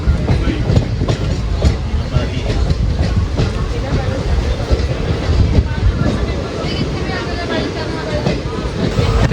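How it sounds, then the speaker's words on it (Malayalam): A long-distance express train bound from Ajmer to Chandigarh rolls past near Ajmer yard, a loud steady rumble with rhythmic wheel clatter filling the whole stretch, with some wind buffeting on the microphone. "അജ്മീറിന്ന് ചണ്ഡീഗഡിലേക്ക് പോകുന്ന വണ്ടിയാണിത്."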